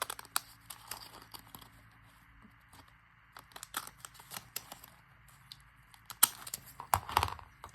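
Scissors snip a paper napkin in a quiet room, with scattered small cuts and paper rustles coming in irregular bursts, close and fairly soft.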